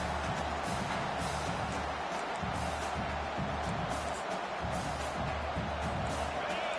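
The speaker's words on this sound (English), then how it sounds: "This crowd, full throat, spreading the eardrums and letting them know it's going to be a long day." Football stadium crowd at an LSU game roaring at full throat, a dense, steady wash of massed cheering that holds loud and unbroken throughout.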